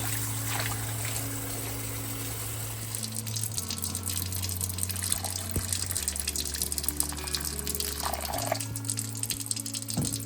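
Hot water is poured over salted ingredients, a continuous trickling and splashing pour lasting several seconds, close and clear, with a low steady hum underneath.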